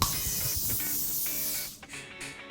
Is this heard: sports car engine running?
no